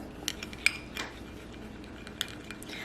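A spoon stirs a yeast and warm milk face mask mixture in a small bowl, with a few light clinks and taps of metal on the dish over a quiet background.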